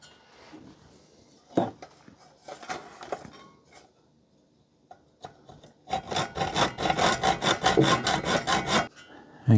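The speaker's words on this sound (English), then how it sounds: "We shall try the hacksaw trick there again." A hacksaw cuts through a badly damaged old part, starting with a few short hesitant strokes, then a loud rapid run of rhythmic back-and-forth rasping strokes close up, with no talking.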